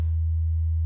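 An 81 hertz sine wave test signal plays as a pure, steady, low hum at constant level for under a second, with no other sound.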